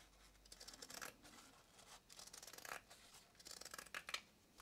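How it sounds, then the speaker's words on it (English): Scissors snip and slide through the corners of cross stitch fabric, quiet and close, in irregular cuts with short pauses and no talking. "So I'm going to trim off the corners of this piece."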